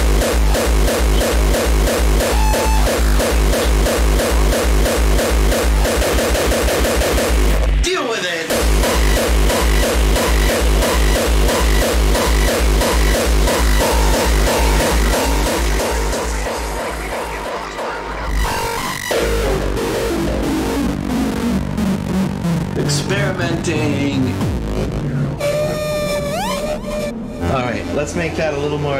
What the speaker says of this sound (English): Does your drum machine sound like this? The amount of distortionation that's happening.